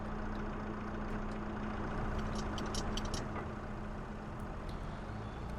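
A tractor in the video game Farming Simulator 25 drives around with a steady, droning engine rumble and a faint high whine. Light clicking ticks sound over the engine, and nobody talks.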